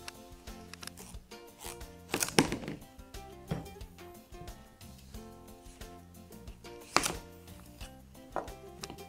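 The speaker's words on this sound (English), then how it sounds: "I'm going to go ahead and cut my other butternut squash the same way" A knife cuts butternut squash into cubes on a board, with sharp chops spaced out between quieter scraping and tapping, close and without speech.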